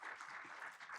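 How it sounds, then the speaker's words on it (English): Applause from an audience at a panel discussion, steady and dense clapping for about a second without any voices over it. "so give him a round of applause"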